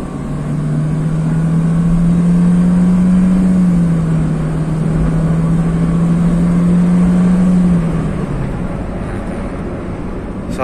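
Old Honda Jazz accelerating on the road, a steady low engine drone climbing slowly in pitch and holding, then dropping away near the end, with wind and road noise in the cabin.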